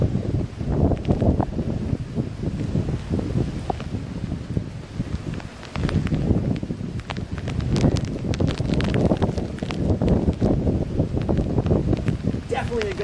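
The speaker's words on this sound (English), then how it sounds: "Definitely a good storm." Gusty wind from a South Alabama summer thunderstorm roars steadily and close for the whole stretch, with continuous rushing and buffeting and no clear break.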